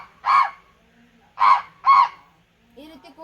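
A human voice imitates a crow cawing with three loud, harsh, nasal caws spaced about a second apart, close and alone against silence, followed by the start of speech.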